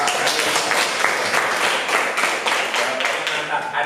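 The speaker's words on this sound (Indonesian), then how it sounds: "tepuk tangan buat kelompok" A classroom group of students claps for a presenting group with brisk, close, fairly loud applause that carries on steadily with uneven hand strikes throughout.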